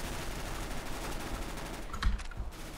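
Rapid bursts of submachine gun fire from a PP-Bizon in the video game CS:GO, a steady dense crackle throughout with a sharper louder shot near the end, no talk.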